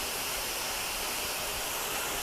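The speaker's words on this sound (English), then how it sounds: "And we'll let go of the water there." Water poured over a sealant-coated car panel makes a steady, even wash of splashing noise that runs unbroken from start to finish at moderate level, with no speech.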